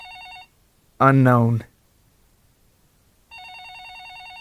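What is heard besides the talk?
telephone ringing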